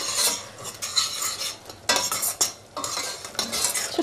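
Curry with spices and turmeric simmers while being stirred, bursts of metal utensil scraping against the pot alternating with quieter sizzling gaps, close and clear, with no talking.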